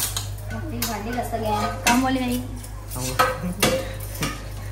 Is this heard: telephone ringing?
no